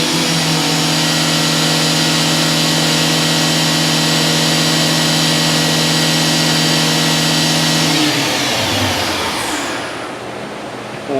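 Spindle of a rebuilt 1998 Fadal VMC-8030HT CNC machining center running at high speed near 10,000 RPM, a loud steady whine with strong tonal hum that drops away as it spins down near the end, no voices.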